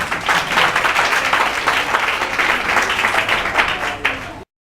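A church congregation applauds together, a dense, steady wash of many hands clapping close and loud, fading out abruptly at the end.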